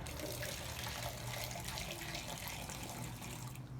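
Steady broadband rush of tap water filling a container while fabric dye is rinsed out, continuous and close with no talking.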